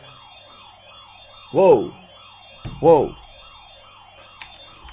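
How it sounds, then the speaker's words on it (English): A home security alarm sounds indoors with a repeating rising electronic whoop, steady and loud in rapid cycles, while a person exclaims briefly twice over it. "That was our alarm going off because somebody opened a window because they were hot."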